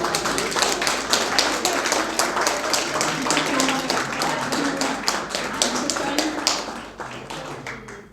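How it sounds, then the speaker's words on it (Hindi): Loud applause for the media gallery at an Urdu literary event, with many hands clapping in a dense, sustained patter for several seconds that tapers near the end. "दीर्घा मीडिया के लिए बहुत जोर से तालियां"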